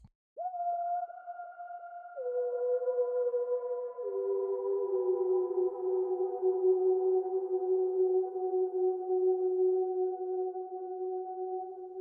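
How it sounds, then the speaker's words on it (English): A distant, hollow sine-wave synth from the Hades 2 music holds soft, pure tones that step down in pitch twice, then sustains alone and steadily for several seconds. "We have that distant kind of sine wave that sounds something a little bit like this."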